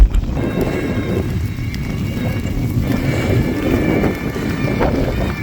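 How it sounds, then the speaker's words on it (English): Strong wind gusting across open moorland on a bridleway, a steady loud rush of wind noise buffeting the microphone throughout, with faint hoof-like thuds underneath. "wind's killing us"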